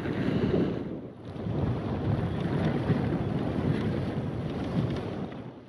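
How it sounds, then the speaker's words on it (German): Steady headwind buffets the microphone of a cycle on the Tauern cycle path near Mittersill, a dense roaring rumble that dips briefly and then swells again for several seconds, with no talking. "Ein bisschen Gegenwind haben wir"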